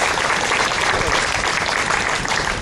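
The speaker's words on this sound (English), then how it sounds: "Give them a round of applause." Audience applause for academic award winners, a dense, loud burst of many hands clapping together for a couple of seconds.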